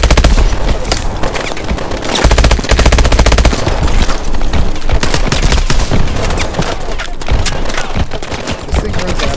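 Rapid automatic gunfire from Call of Duty Advanced Warfare crackles loud and near in dense sustained bursts, with brief gaps between volleys.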